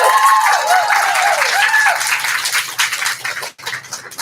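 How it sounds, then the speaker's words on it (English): Audience at a poetry slam applauding a poet, loud dense clapping and cheering at the start that thins out and tapers over a few seconds, with a brief drop near the end. "So applaud the poet."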